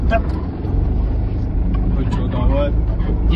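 A car rolls past on a village road, a steady rumbling engine and tyre noise close by, with people talking over it throughout.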